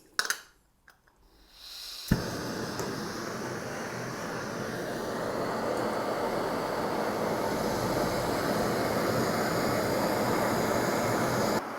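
A Pocket Rocket camping gas stove lights with a sharp click, then settles into a loud, steady roar of burning gas under a cooking pot that continues without a break.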